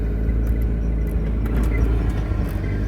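A Jeep rock crawler's engine rumbles low and steady from inside the cab on a bumpy trail, with light rattles and knocks over the constant drone and no voices.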